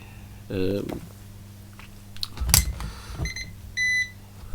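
A few short electronic beeps from a multimeter continuity test sound near and clear, separated by clicks and handling noises on a quiet bench during a laptop keyboard repair.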